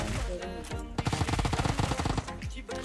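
Rapid automatic gunfire from an assault rifle in the PUBG battle royale game, a loud close burst of rattling shots lasting over a second, preceded by a few scattered single shots.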